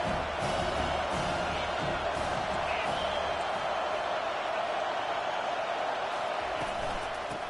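A football stadium crowd roars steadily before a big down, a sustained wash of cheering noise heard under a commentator's voice.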